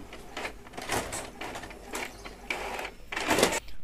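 A label printer feeding and printing shipping labels for online orders, repeated mechanical whirring bursts at an uneven rhythm, close and moderately loud.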